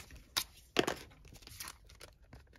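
A paper envelope being cut for a crafting project, a few close crisp snips and crinkles spread over a quiet couple of seconds with no voice.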